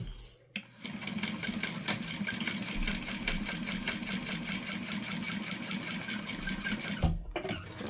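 A sewing machine runs continuously as it stitches fabric gussets together with a quarter-inch seam, humming and clattering up close from start to near the end before briefly stopping and restarting.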